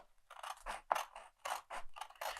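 Scissors snip through paper while cutting out a paper figure, about six short, crisp cuts in a steady rhythm, close and quiet.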